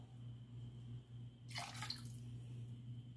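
Dry wine pours from a measure into a pot of yellow rice with fried pork and pigeon peas, a short liquid splash in the middle of a quiet kitchen with a low steady hum.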